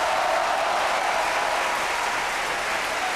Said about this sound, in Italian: dieser Applaus gilt Marcellina, der Mezzosopranistin Trudelise Schmidt